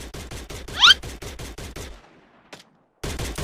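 Rapid bursts of automatic gunfire fire in a shooting video game, a steady rattling stream that pauses for about a second before starting again.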